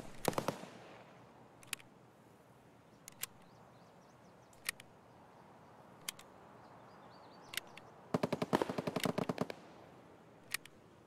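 Sharp gunshots in Escape from Tarkov, mostly single cracks spaced a second or two apart, then a rapid burst of around ten shots, over a quiet background.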